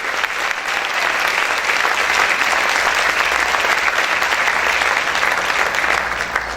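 A church congregation applauds loudly and steadily during a sermon, dense clapping from many hands filling the room for the whole stretch with no pause.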